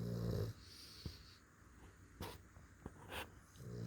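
Small dogs snoring as they sleep on a lap, soft close snorts and breaths that swell at the start and end, with a few quick sniffs and snuffles in between.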